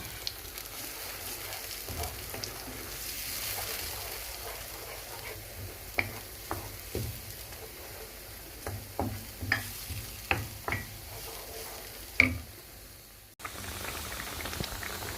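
Vegetables cooking in a pot of fish stew, a steady low bubbling simmer broken by occasional soft stirring clinks and scrapes, heard alone and quiet.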